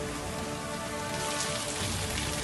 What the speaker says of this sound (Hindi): जैसलमेर में बारिश की वजह से छोटी नदियां उफान पर हैं